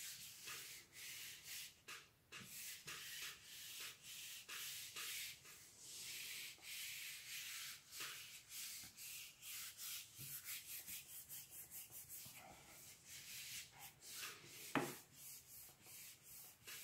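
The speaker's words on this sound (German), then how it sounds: "Fahre da mit Kraft über diese Platte drüber." A hand presses and rubs firmly over paper laid on a monotype printing plate, making steady close scratchy strokes in a repeated back-and-forth rhythm for the whole stretch.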